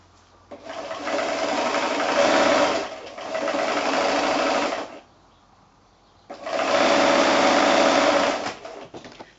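A sewing machine stitches a quarter-inch seam on a quilt block in three bursts of steady, fast whirring, with short pauses between runs.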